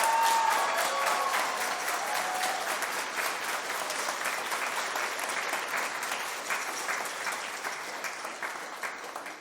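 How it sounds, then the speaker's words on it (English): Parents, families and friends at a high school spring band concert give a long round of applause, dense steady clapping that fills the hall and slowly thins toward the end, heard at moderate distance with a few faint voices. "How about a big round of applause for Mr. Wood?"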